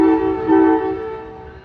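An Amtrak train at Santa Fe Junction sounds a loud, steady horn chord that holds, swells briefly, then slowly fades, with low rumble of the passing train beneath.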